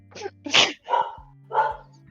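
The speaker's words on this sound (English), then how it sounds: "dogs are barking." Dogs bark nearby in three or four loud, separate barks with short gaps between them, over a low steady hum.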